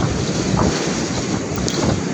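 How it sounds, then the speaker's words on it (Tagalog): Typhoon Nika's strong wind roars and buffets the microphone in a constant, loud rush, with a dense hiss of heavy rain underneath, in Isabela. "napakalakas na po ng hangin at malakas na rin po ang buhos ng ulan"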